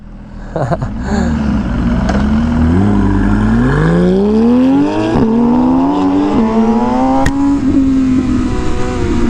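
An MV Agusta Rush motorcycle engine runs up close and loud, its pitch rising steadily as it revs, with a few sharp mechanical clicks along the way.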